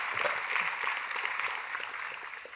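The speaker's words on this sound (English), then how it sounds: "that deserves a round of applause as well" An audience at a speaker series event gives a round of applause, a steady wash of many hands clapping at moderate volume that slowly tapers toward the end.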